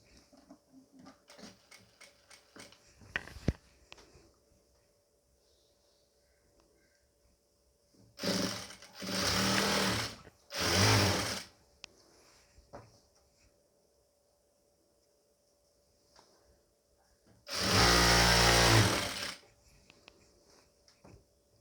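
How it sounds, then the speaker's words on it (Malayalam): Sewing machine running in short bursts while stitching a doubled half-inch folded hem on a nightie, three loud whirring runs of a second or two each, separated by quiet pauses with faint handling clicks. "ഇനി ഞാൻ താഴെ ഇതേ ഇതേപോലെ ആദ്യം നമ്മളൊന്ന് അരയിഞ്ച് മടക്കി കൊടുക്കുക പിന്നെ ഒരു അരയിഞ്ചും കൂടി മടക്കിയിട്ട് നമുക്ക് ഒന്ന് ഇതും റൗണ്ട് ചെയ്ത് അടിച്ചെടുക്കാം"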